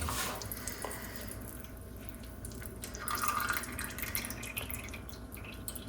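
Mustard oil poured into a pan for a homemade desi pain-relief oil: a soft, continuous liquid trickle with light dripping over steady background hiss, and no voices.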